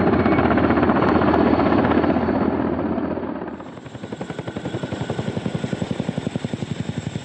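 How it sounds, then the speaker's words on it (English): Heavy Mi-6 transport helicopter in flight, as used in oil-region work. A loud, broad engine roar fades into a steady, rapid thudding of the big rotor blades that keeps pulsing through the rest. "Helicopters moved tubes and houses."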